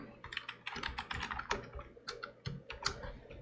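Rapid keystrokes clatter on a computer keyboard in a burst of quick, uneven taps, close and fairly quiet, with no voices.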